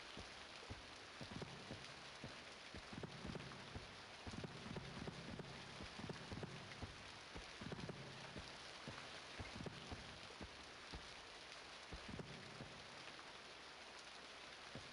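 Steady rain pours through a dark, eerie video game level, a dense continuous hiss with scattered droplet taps and occasional low rumbles, with no voices.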